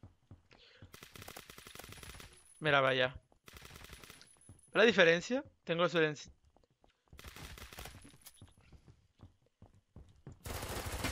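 Rapid bursts of gunfire in the Roblox game Phantom Forces crackle between stretches of someone talking, with several short volleys spread across the clip.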